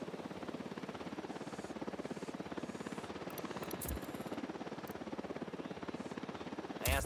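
Helicopter in the Ghost Recon Wildlands video game approaching with steady, continuous rotor chop that stays loud throughout, with a brief thump near the end.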